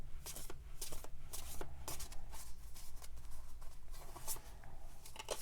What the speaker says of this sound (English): The deck that I'm shuffling is a Tarot de Masse deck.